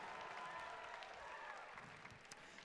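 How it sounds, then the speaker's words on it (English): An audience claps for a round of applause at a Christian showcase production, heard as a faint, distant, steady patter of many hands with a light murmur of the crowd running through it. "can I hear a big round of applause for the Showcase Council"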